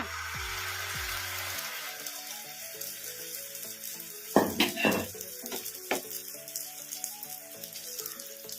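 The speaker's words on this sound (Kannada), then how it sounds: "ಇದನ್ನ ಮೀಡಿಯಂ ಫ್ಲೇಮಲ್ಲೇ ಫ್ರೈ ಮಾಡ್ಕೋಬೇಕು" Egg and onion omelet batter fries in hot oil on a pan over a medium flame with a steady, close sizzle, punctuated midway by several quick metallic clinks of a utensil.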